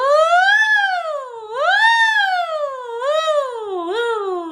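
A single voice imitates a siren as a vocal exercise, sliding smoothly up and down in three long wavering glides and a shorter final one, loud and close with no other sound.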